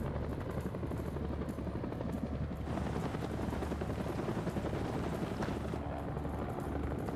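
Helicopter coming in to land in the video game House of Ashes, a steady, continuous rotor drone that fills the whole stretch at a constant moderate level, with no talk over it.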